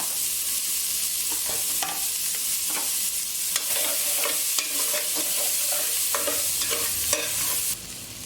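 Chopped onion sizzles with garlic in a hot pan, a continuous frying hiss broken by repeated scraping stirs at an irregular rhythm, close and fairly loud.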